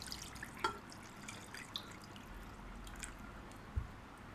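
Water poured from a cup into a cooking pot of washed raw chicken pieces, three cups' worth, heard as faint, quiet dripping and trickling splashes with a few louder drops.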